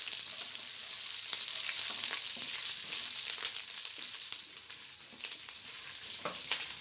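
Chopped cabbage sizzles and fries steadily in a pan for a chickpea and cabbage fry, a constant close crackle with occasional sharper pops and light stirring, no talking.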